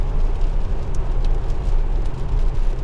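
A Tesla electric car cruising on a road in Germany, steady low rumble of tyres and wind noise from inside the cabin, loud and even with no voices.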